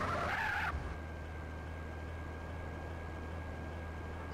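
Car driving in GTA San Andreas Definitive Edition, opening with a short tire screech, then a steady low engine drone that holds on, fairly quiet and unaccompanied.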